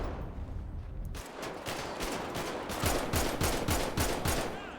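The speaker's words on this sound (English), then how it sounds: "Shots fired! Shots fired!" Rapid bursts of automatic gunfire in GTA V with the LSPDFR police mod, loud, close and continuous, sharp repeated cracks firing in quick succession for several seconds.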